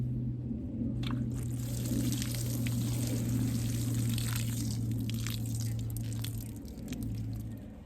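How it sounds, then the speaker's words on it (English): Water pours steadily onto soil over freshly planted dahlia tubers, a continuous splashing, gurgling wash lasting several seconds, close by with a low hum underneath. "I will just water them in"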